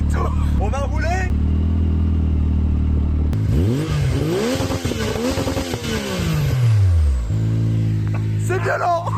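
Engine of a Yamaha YXZ 1000R SS side-by-side idling, then revving hard and rising and falling in pitch as it pulls away. Loud and close, with brief talk at the start and end.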